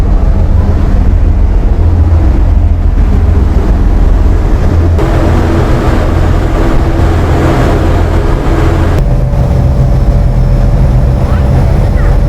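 Loud, constant engine room roar aboard an Andaman ferry ship, a heavy droning rumble with a steady hum that fills the space, with a voice speaking under it.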